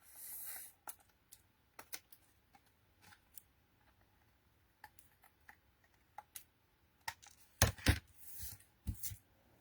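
Scissors snipping through glitter card during a papercraft session, a scattering of short, sharp cuts and small handling clicks, close and quiet with no talk.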